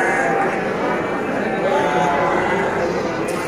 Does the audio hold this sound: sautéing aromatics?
no